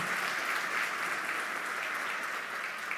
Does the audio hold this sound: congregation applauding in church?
yes